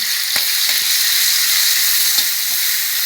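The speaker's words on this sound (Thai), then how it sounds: "ผัดพริกแกงให้หอมก่อน" Red curry paste sizzles steadily as it is stir-fried in hot oil in a pan, a loud, continuous close-up hiss broken by a few soft clicks of stirring, with no talking.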